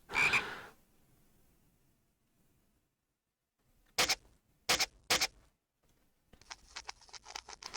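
In the Timelapse video game, a frog gives three short, sharp croaks in quick succession after a stretch of near silence. A brief burst of noise comes before them and a patter follows.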